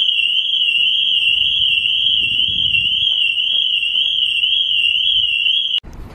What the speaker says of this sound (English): Dude, you set off the alarm.